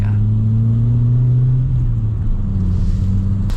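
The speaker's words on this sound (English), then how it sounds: "Alright, let's hear this exhaust now." A Fiat Punto Evo exhaust hums in a steady low drone while driving, the pitch easing slightly lower partway through, close and continuous with no talking.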